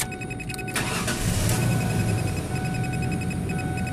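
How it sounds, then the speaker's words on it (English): A car engine cranks and catches, then settles into a steady mid-pitched idle, fairly close and with no talking over it. "So I'm going to start it."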